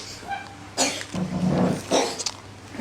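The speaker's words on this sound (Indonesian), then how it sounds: "Batuk." A few short, breathy coughs close by, in quick bursts separated by brief pauses.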